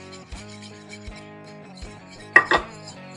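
Milk being stirred into mac and cheese sauce in a pot, with soft scraping strokes and sharp utensil knocks against the metal, one pair of louder clanks near the end, close by and with no talk.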